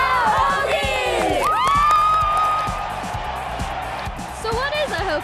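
A huge stadium crowd of around 50,000 cheers at a Virginia Tech Hokies football game, loud whoops and yells swelling then easing into a sustained roar, with a voice talking over it.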